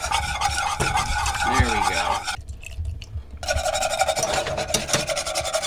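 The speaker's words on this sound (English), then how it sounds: "it's very important that you go slow and you want to whisk constantly" A whisk scrapes and stirs as milk is worked into a butter and flour roux in a pan. The rasping strokes are close and rhythmic, with a brief quieter gap partway through, and a voice speaks briefly.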